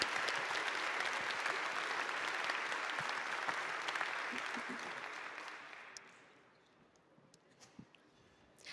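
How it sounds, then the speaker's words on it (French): Dense audience applause at a company general assembly, sustained and full for about six seconds before dying away to a few scattered claps. "On peut les applaudir très très fort."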